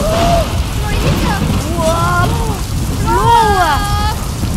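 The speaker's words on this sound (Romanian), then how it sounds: "vine ploița! Auziți? Ploiță!" Steady hissing rain plays as a sound effect in a children's clown show with colorful games. It continues throughout while excited voices talk and call out over it.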